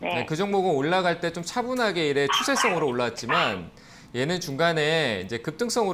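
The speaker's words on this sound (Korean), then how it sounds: "강아지가 좀 시끄럽네요" A small dog yips and barks in the background of a home setting, its repeated calls mixed under continuous close talking.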